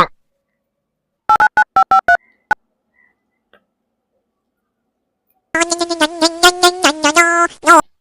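A phone number is punched in on a keypad, giving a quick run of short, crisp dialing beeps, then a pause before a louder, sustained tonal ringing sequence sounds up close.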